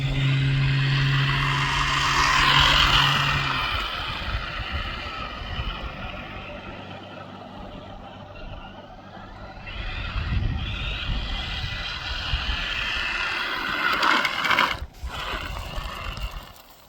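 A kit-stock Tamiya BigWig radio-controlled car runs with a whining electric motor that surges and fades as it drives nearer and farther, ending with a brief sharp clatter.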